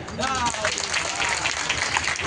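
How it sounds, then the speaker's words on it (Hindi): Gathered audience at a speech clapping together in dense, continuous applause, with a voice briefly audible over it at the start. "इसलिए अपने आप के लिए ताली बजाइए"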